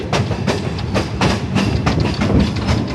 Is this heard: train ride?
yes